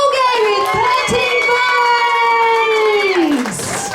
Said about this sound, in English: Keep the applause coming for our crowd favourite, Debbie.